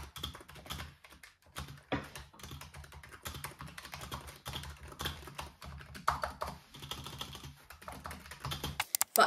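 Steady, rapid typing on a Razer keyboard fitted with linear optical switches, close and fairly quiet, with dense key clatter running for the whole stretch and no voices.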